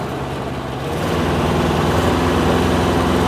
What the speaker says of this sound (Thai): แล้วค่อยเร่งเครื่องให้ได้รอบนะครับ